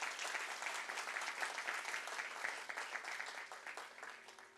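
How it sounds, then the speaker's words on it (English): Applause from a concert audience at a Carnatic music award honouring violinists, a dense, steady wash of many hands clapping throughout, moderately distant and fairly even in level. "Please give them a big applause."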